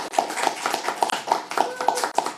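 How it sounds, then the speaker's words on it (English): A small audience at a candidates' meeting claps in scattered, light applause, a quick run of hand claps heard fairly close. "I think we should give them another little round of applause there for our..."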